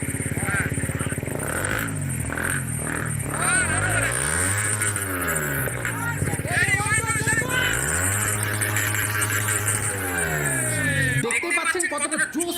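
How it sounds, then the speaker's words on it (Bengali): Motorcycle fitted with an R1-series aftermarket exhaust revving repeatedly, engine pitch rising and falling in several sweeps close by, with people talking over it before a sudden cut-off near the end. "কতটা জোস টাইপের একটা এক্সস্ট কিন্তু এই বাইকে ইনস্টল করা হয়েছে"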